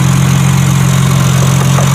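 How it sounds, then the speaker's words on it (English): A BMW 3-liter twin-turbo S58 engine running, a loud, steady idle with a strong low hum and constant mechanical vibration, close up with no talk. "take a look at the 3-liter twin-turbo S58"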